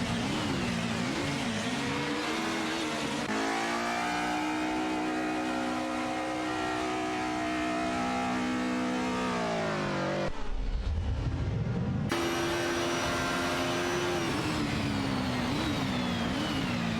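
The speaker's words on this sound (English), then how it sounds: "Winzerius Guy is in an Alfa Romeo 155 Type 6" Race cars including an Alfa Romeo 155 and a Mercedes 180 DTM roar through a racing video game, with loud sustained engine tones rising and falling through gear changes and a brief sweeping pass near the end.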